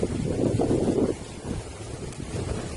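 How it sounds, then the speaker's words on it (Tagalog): Wind blowing outdoors near a spot where rubbish was burned, a steady rushing buffet across the microphone, fairly loud and continuous with no talk. "At mahangin sa paligid."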